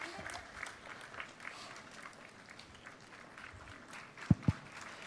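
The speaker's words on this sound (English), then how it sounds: "They definitely deserve much more round of applause" Applause for the finalists from an audience at a plenary session, soft and distant clapping throughout, ending with two sharp close claps.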